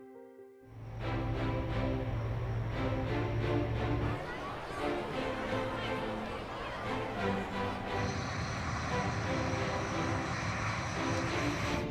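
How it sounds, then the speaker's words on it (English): Loud, continuous roar of a Red Arrows jet aircraft engine at an airshow, steady and close, with a rising higher-pitched whine joining partway through. "lots of jet noise"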